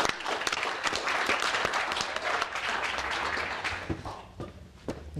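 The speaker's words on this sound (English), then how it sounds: "Keep the applause going if you like." At an auctioneering competition, the audience gives sustained applause for a contestant, thick clapping that carries on for about five seconds before thinning into scattered, sharper individual claps at the end.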